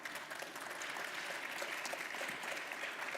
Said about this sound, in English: Ladies and gentlemen, let's give them a huge round of applause.